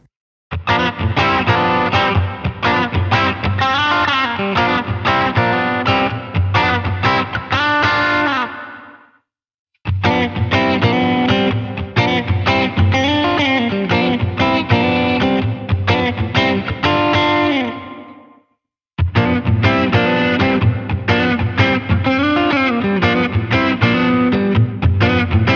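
Distorted chords and riffs from an Epiphone Les Paul Classic electric guitar with coil splits engaged, a thinner, brighter tone, played in three bursts separated by brief silences.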